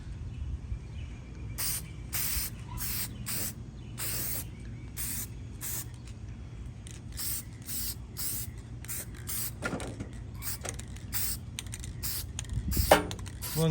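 An aerosol spray can puts a coat of paint on a 2020 Bolens 20-inch lawn mower in a series of short, sharp hissing bursts separated by pauses, close and fairly loud, with no talk.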